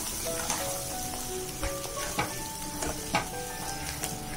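Ground onion-tomato paste sizzles steadily in a hot pan for a Mughlai chicken gravy, with a continuous close crackle and occasional sharp spatter pops and light stirring clicks.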